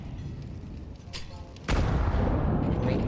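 A grenade blast in a competitive shooter match lands as a sudden heavy boom with a sustained rumbling tail, with a commentator talking loudly over the game.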